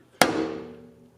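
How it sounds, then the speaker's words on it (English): A single sharp metallic clang of a hammer striking a flathead screwdriver set against a Fortune Auto 510 coilover lock ring, close and loud, ringing out and decaying over about a second. "take a flathead screwdriver, hook it up to your lock ring, and hit it with a hammer."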